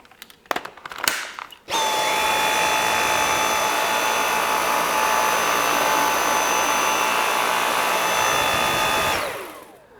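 A Dyson V8 Absolute cordless stick vacuum switches on after a few brief knocks and handling clicks, then runs with a loud, steady high-pitched motor whine for about seven seconds before spinning down.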